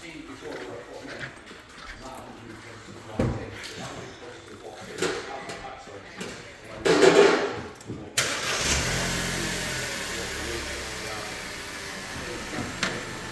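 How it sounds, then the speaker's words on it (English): A car engine cranks and fires up after some handling noises and a person talking, then settles into a steady running idle that continues to the end. "I'm going to start the car, sit in it, turn it lock-to-lock"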